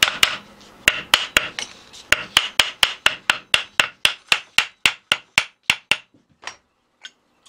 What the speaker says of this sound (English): I'm using the wooden part of this hammer,